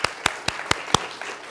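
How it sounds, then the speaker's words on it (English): An audience at a Sunshine Week celebration at the National Archives applauds, the clapping heard as a short burst of a few loud, evenly spaced claps. "We're gonna clap."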